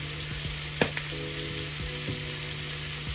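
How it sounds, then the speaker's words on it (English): Butter melts and sizzles in a pan before steak is cooked, a steady close hiss with a sharp tap near the start and faint stirring scrapes, no talking. "your butter is going to start to melt down"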